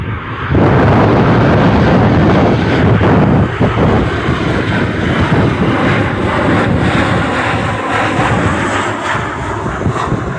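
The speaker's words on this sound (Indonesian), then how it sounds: "wow, pesawat, lihat." A Lion Air airliner flies low past close to an airport, its jet engines surging from a sudden loud roar into a sustained, rushing blast with wind buffeting the microphone, slowly fading slightly as it passes.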